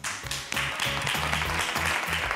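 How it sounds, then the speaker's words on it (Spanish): A television game show studio audience on Atrápame si puedes claps in a steady, dense burst to welcome a contestant, with a rhythmic low thumping underneath throughout. "Vamos a recibir con un fuerte aplauso a Luis"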